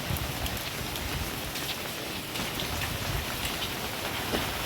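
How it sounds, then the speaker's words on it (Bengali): Heavy, unrelenting rain pours down on a waterlogged street, a soft but dense, even patter and hiss of drops striking surfaces, steady throughout with no voices. "বৃষ্টি থামার কোনো নাম নেই, কাল থেকে চলছে পুরো।"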